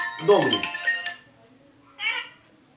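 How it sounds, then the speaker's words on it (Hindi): A phone rings during an online class with a short melodic ringtone burst, a brief pause, then another tonal burst, and a voice can be heard alongside it. "2 मिनट में क्लास में फोन आया, फोन अटेंड कर लो।"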